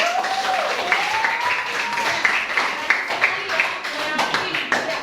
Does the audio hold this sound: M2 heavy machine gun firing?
no